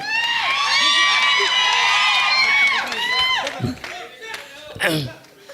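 A crowd at a film success meet cheers, whoops and shouts loudly, a dense excited roar that fades toward the end into scattered clapping and a few sharp voices.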